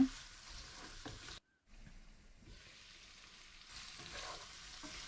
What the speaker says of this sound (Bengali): এখন আমি এড করব আগে ভেজে রেখেছিলাম যে গলদা চিংড়িগুলো এগুলোকে এখানে আমি দিয়ে দিচ্ছি দিয়ে ভালো করে মিক্স করে দিব স্পাইসির সাথে